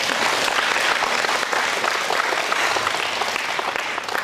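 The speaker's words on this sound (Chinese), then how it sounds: "来，给自己鼓掌一下。" An audience applauding themselves at a talk, a full, even burst of clapping that holds steady for several seconds without pause.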